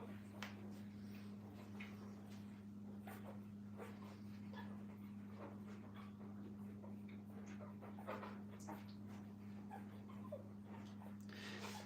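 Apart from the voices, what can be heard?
puppies whimpering and feeding in kennel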